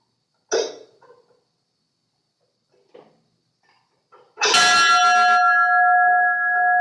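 A single bell, brought in and struck at a Rotary Club of Topeka gathering for a moment of remembrance, rings out loud and close with a bright attack and a long sustained hum that lingers, after a few soft thumps and rustles.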